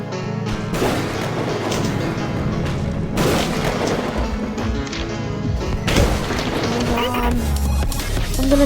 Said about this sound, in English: I'm gonna drop a bomb.